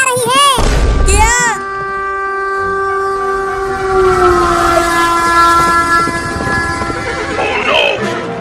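Cartoon train charging down a railway line, with a loud blaring horn that holds for several seconds over rumbling wheels, followed by sharp whistle-like squeals at the end; no speech.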